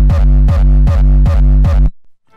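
Five heavy synthesized wavetable kick drum hits, high-pass filtered and driven, repeat at a steady pulse about every 0.4 seconds, loud and booming with a gritty top, then stop abruptly.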